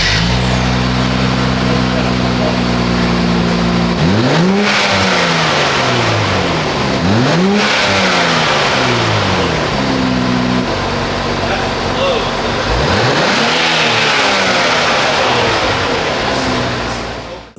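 A 2023 Nissan Z's loud aftermarket Fi exhaust with a new muffler revs hard three times, the engine note sweeping up and dropping back between steady idling rumble, close and dominant.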